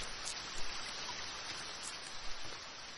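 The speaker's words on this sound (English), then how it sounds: "It's fucking raining, bro." Rain falling in The Forest survival game, a constant diffuse wash of noise with slight swells and faint low thumps, no voices over it.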